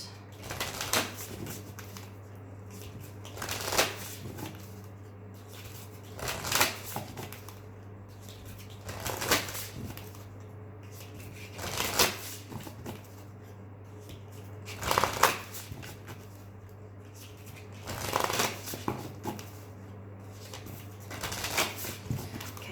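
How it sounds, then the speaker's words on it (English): Tarot cards are shuffled close up in repeated riffling bursts every few seconds, each a brisk papery flutter, over a low steady hum with no talk. "we're going to pull some tarot cards"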